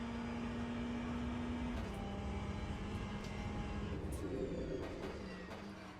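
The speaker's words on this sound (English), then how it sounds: "So I mean, the cars sound good." Race car engines from the Le Mans Ultimate video game drone steadily and fairly quietly, their pitch shifting with gear changes, and they fade slightly toward the end.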